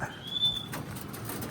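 A pigeon in a racing loft gives a soft, brief coo, faint and close, with light rustling and no talk.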